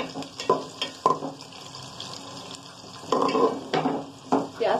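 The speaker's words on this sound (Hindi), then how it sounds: "ऑयल गर्म हो गया है, और अब इसमें डाल रही हूँ प्याज।" Chopped onions hit hot oil in a pan, giving bursts of sizzling and stirring scrapes that swell and fade in uneven clusters, close and fairly loud.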